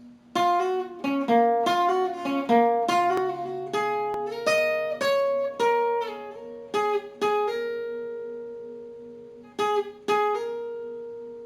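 A guitar plays the second part of a solo, a measured series of plucked notes that ring out and fade, a longer held note, then a few final picked tones, alone and close.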